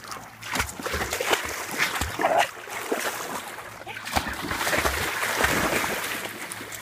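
A dog swims out into open water for the first time, paddling with steady sloshing and irregular splashes that carry on for several seconds, with faint voices in the background.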